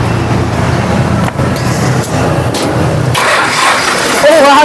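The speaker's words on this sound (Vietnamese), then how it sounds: "Nổ máy thử coi." A newly painted tractor engine is started up, cranking through a dense, rough noise before catching partway through and rising into a louder running note, with voices speaking over it.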